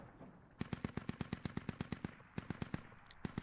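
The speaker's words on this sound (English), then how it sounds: "mortars are overhead" Rapid bursts of mortar and gunfire in the video game Squad, during a territory control event at the Blue Mosque forward base, with a steady run of sharp, evenly spaced reports that are moderately distant.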